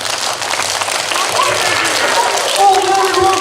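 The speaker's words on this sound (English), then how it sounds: "Well, we're gonna clap faster" Children and puppeteers clapping rapidly at a Pink Shirt Day puppet show, a steady fast patter of many hands under a noisy room with voices and background sound.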